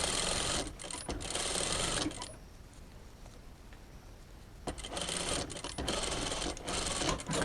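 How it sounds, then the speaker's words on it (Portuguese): Sewing machine running with its bobbin thread run out: loud, steady mechanical whirring and rattling that pauses for a couple of seconds, then resumes in several uneven bursts. "já escutei pelo barulho da minha máquina, ela já fez um barulhinho diferente"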